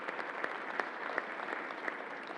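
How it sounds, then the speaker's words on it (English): At a COVID-19 briefing inside the Javits Convention Center, a modest audience claps steadily for the National Guard and health workers, a faint, even patter without talk. "Let's give another round of applause to the National Guard and to Alan Steele and all the people"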